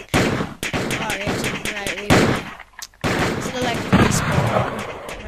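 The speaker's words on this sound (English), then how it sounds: "I'm getting shot at, I can tell." Gunfire aimed at the player in a Russian army shooter video game: loud sharp shots crack in irregular bursts, some rapid and clustered, with a brief lull near the middle, while a person talks over the action.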